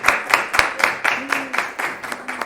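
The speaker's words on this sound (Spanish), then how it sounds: "un aplauso muy grande" Audience at a poetry reading clapping in a steady run of sharp, separate claps, fairly close and moderately loud, with a brief murmur of voices underneath.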